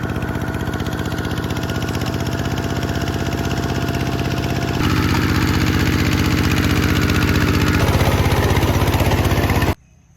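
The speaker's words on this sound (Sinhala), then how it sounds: "මේ කියන්නේ අපේ පොඩි ට්‍රැක්ටර් වලින් හාන විදිය" A small tractor engine runs steadily while ploughing a paddy field, a loud, close, continuous putter that shifts slightly in tone midway before cutting off abruptly at the end.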